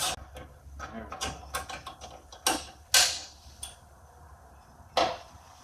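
A ratchet wrench works loose a bolt on the fan module of a Ram Promaster van, giving short bursts of close mechanical clicking and ratcheting separated by brief pauses, with a few sharper metallic snaps.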